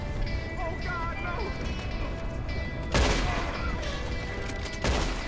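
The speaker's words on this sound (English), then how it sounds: "I hear gunfire." Video game gunfire from Red Dead Redemption 2: two sharp broadband bursts, one near the middle and one near the end, stand out against a steady bed of game ambience and music.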